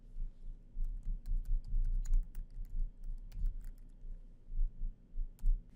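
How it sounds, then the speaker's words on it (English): Someone types steadily on a computer keyboard at a desk, producing a close, irregular stream of soft key clicks with occasional sharper taps and no talking. "I type in Family Caregiver"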